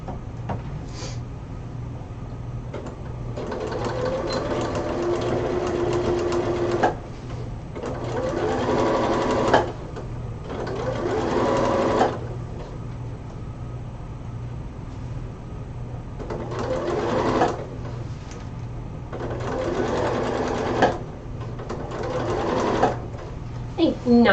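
A sewing machine stitches a cosplay costume in several bursts of whirring, each a few seconds long, separated by pauses, heard close and clear with some talking in between.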